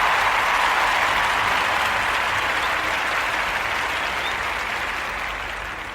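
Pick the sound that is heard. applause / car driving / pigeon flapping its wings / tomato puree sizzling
applause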